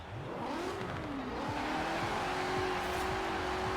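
A car engine in the racing game Forza Horizon 4 revs steadily and climbs in pitch through the gears, loud and close, with a faint tire squeal.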